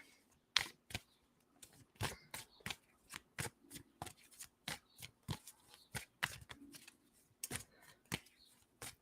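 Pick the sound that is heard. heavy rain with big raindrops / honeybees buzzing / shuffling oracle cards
shuffling oracle cards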